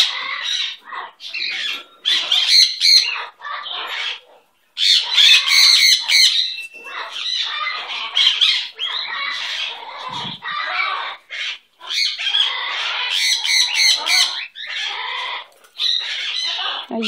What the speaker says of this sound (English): You're a very good bird.